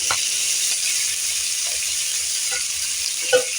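Potatoes and onion fry in a pan with a steady, close, bright sizzle, broken by a few soft stirring scrapes and a light clink near the end.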